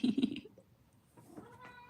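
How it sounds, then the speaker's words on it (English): A house cat gives a short, close meow at the start, then fades into faint background sound with no speech. "Are you a sad cat?"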